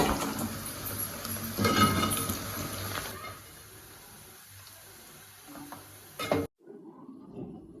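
Spices tipped into hot peanut oil for chicken pachadi, a busy sizzle and stirring scrape loud at first, then thinning to a quieter crackle before cutting off abruptly near the end.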